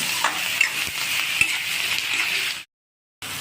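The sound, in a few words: ginger garlic frying in a pan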